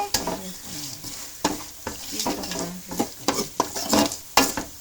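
Bitter gourd slices frying in plenty of oil give a close, continuous sizzle broken by frequent scraping and clinking as a utensil stirs them in the pan.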